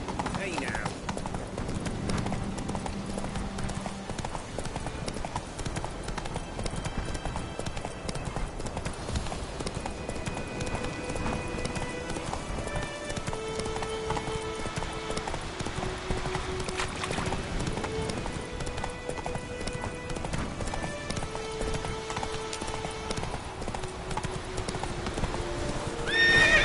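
Hooves of Roach, Geralt's horse in The Witcher video game, clip-clop at a steady rapid gallop throughout, with a neigh early on, set under continuous game music and occasional spoken lines.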